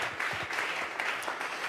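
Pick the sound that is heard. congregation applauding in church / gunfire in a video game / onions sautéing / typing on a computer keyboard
congregation applauding in church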